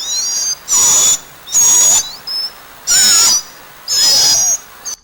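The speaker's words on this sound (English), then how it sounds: "Nestling mockingbirds make a lot of noise, especially as they get older." Nestling mockingbirds give loud, harsh, drawn-out calls, five raspy squawks in a row, close up with short gaps between them.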